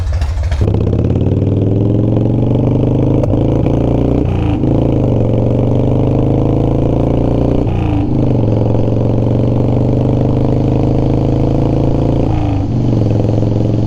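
A Harley-Davidson FXR motorcycle engine with a suspected fault runs steadily at a loud, close idle, with a few brief blips of revving and mechanical clatter throughout.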